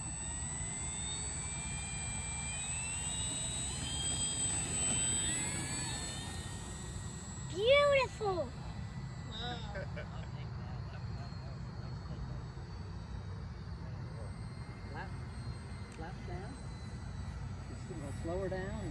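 A Corsair RC model airplane flies at a Delaware field, its engine whining steadily in the distance with a brief louder pass, while people talk nearby.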